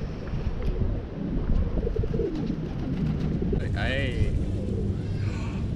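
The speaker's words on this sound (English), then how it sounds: "Let the pigeon feeding frenzy begin." Pigeons coo softly amid a busy outdoor bustle of voices and rustling, with fluttering and scattered bird calls close by.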